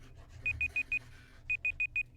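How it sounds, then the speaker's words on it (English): A kitchen timer sounds two sets of four short, evenly spaced electronic beeps, separated by a brief pause, loud and close over a low background hum. "Yeah, that's my timer."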